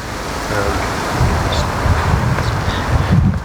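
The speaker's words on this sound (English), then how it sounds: "It's windy as outside" Steady wind buffets the microphone with a low rumbling roar, broadband and continuous throughout, with a few faint higher rustles on top.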